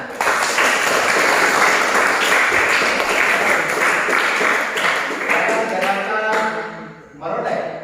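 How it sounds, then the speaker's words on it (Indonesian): A classroom group claps together in a lesson on body movements, a dense, even burst of hand claps that runs for several seconds before thinning out, with a voice briefly audible near the end. "Iya, tepuk tangan."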